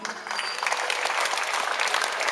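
Wedding guests applauding a newlywed couple after their announcement at a church wedding: a dense, steady round of clapping from a crowd, close and continuous throughout.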